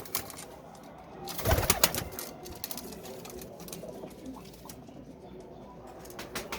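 A pair of Ferozpuri pigeons coos in a brief cluster of soft calls near the start, then only faint background rustle follows.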